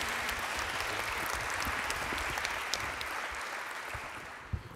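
Audience at a French booksellers' panel applauding, a dense, steady wash of clapping from a mid-sized crowd that holds for several seconds and then thins out.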